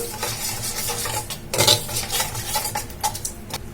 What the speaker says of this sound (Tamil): அந்த பாலை வந்து இதுல ஊத்திக்கலாம். ஊத்திட்டு இதை நல்லா மிக்ஸ் பண்ணிக்கலாம்.